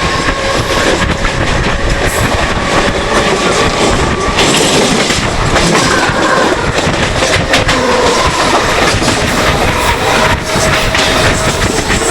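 A train roars past close by, loud and continuous, with rattling clickety-clack from the wheels and carriages throughout.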